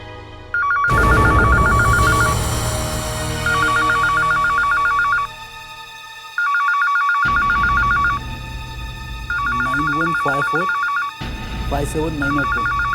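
A telephone rings in repeated electronic bursts in a Hindi TV crime drama, loud and close, with pauses between rings and a voice speaking in the gaps.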